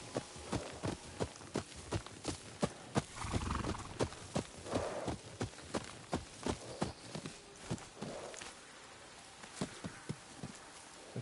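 A horse's hooves clip-clop at a steady walking pace in the video game Ghost of Yotei, with a brief whinny partway through.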